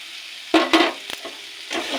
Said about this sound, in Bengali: এবার ভেজে রাখা চুনো মাছটাকে দিয়ে দেবো